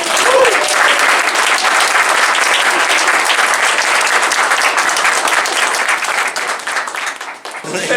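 An art show crowd in Dallas breaks into loud, sustained applause with some cheering, thick clapping that holds steady before thinning out near the end.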